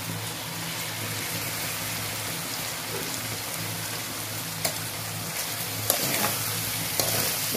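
Tomato, onion and spring onion fry together in a pan with a dense, constant close sizzle, broken by a few sharp clacks of stirring toward the end; no one speaks.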